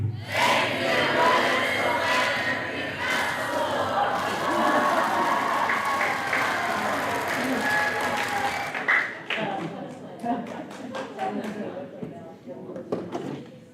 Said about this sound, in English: That's a big round of applause at the end.